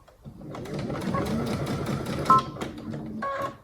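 A sewing machine stitching diagonally across a bag strap runs in a steady, close, moderately loud burst for most of the clip, stopping briefly near the end with a short mechanical click.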